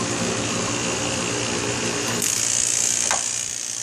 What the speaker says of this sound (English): this is the vacuum pump, which I use to vacuum out all the moisture and contaminations out of the AC system